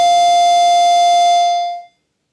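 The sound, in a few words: square wave tone from a 1980s analog synthesizer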